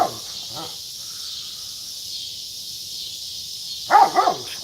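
A dog barks at passers-by on a street, a couple of sharp barks at the start and a short burst of two or three near the end, over steady insect buzzing outdoors.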